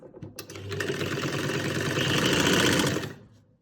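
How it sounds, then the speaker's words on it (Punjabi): A sewing machine runs a steady, close, continuous whirring stitch for about three seconds, sewing a salwar hem right alongside the buckram stiffening, with the motor spinning up at the start and winding down at the end. "ਆਪਾਂ ਸਲਾਈ ਬਿਲਕੁਲ ਬੁਕਰਮ ਦੇ ਨਾਲ ਨਾਲ ਲਾਈ ਹੈਗੀ"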